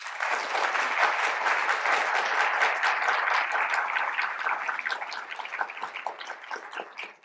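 An audience greets the speaker Scott Eyman with sustained, dense applause from many hands that fills the hall. It holds steady, then thins and tapers off toward the end, with no voices over it.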